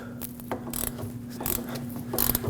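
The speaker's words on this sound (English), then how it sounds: "Put a 17mm wrench or socket on here and just try to break this free." A 17mm socket wrench ratchets on a sway bar link nut of a 2006-2015 Lexus IS250, giving several close, loud bursts of rapid clicking separated by short pauses, with no talking.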